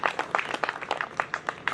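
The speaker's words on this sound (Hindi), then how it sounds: "अजनबी जी के लिए जोरदार तालियां बजा दें" An audience claps at a Hindi comic poetry festival event, a quick run of sharp, irregular hand claps at moderate distance that carries on the whole way.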